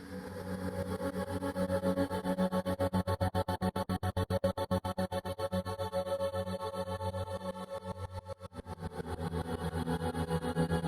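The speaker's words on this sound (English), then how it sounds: "Evolving tremolo sounds like this." A vocal chop processed with an evolving auto-pan tremolo, its sustained tone chopped into fast rhythmic pulses that speed up and slow down, loud and alone with no talking.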